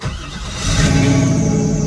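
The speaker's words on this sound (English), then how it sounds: "Go ahead, fire this thing up. Let's hear what it sounds like." A 1967 Camaro SS hot rod engine cranks and fires, then settles into a loud, close, steady revving rumble with no talking.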